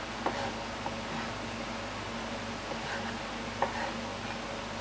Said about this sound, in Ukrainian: Починаю цибулю обсмажувати.